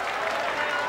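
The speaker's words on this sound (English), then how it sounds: "Great reception from the crowd." A stadium crowd applauds and cheers after a 1988 rugby league win by Balmain Tigers over Canterbury-Bankstown Bulldogs, a dense, continuous roar of clapping from a large audience.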